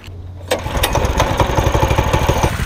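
A Predator 212cc small engine fires up at a drag race and settles into a loud, rapid, even chug, with close and steady pulses that follow a brief quiet start.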